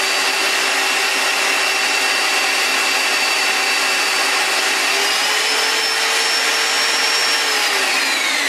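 A Black & Decker car buffer runs at high speed, a loud steady motor whine that holds constant, then shifts slightly in pitch near the end, with no talk over it.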